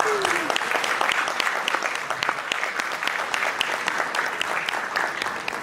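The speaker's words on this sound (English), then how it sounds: "Can we give them a hand of applause?" Audience applause at a refugee support event, a steady dense clapping that holds at even loudness for several seconds with no talk over it.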